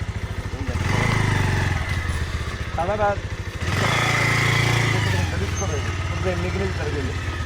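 Motorcycle engine running steadily at a rural spot near the India border during Eid, a loud continuous drone under ongoing conversation between several people.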